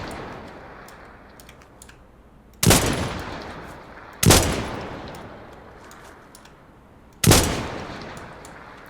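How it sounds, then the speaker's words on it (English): Gunfire in the retro shooter video game Dagger Directive: three sharp, loud shots spaced a couple of seconds apart, each with a decaying tail over a steady low background hiss. "We're gonna shoot who we can see"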